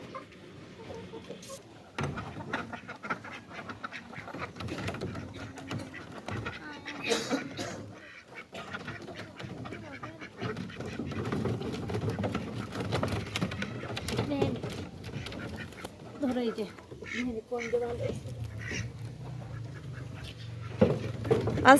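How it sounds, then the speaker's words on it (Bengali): Domestic ducks kept in a coop alongside chickens quack intermittently throughout, close and fairly loud, with a person talking among the birds. "এটা হচ্ছে পাতি হাঁস"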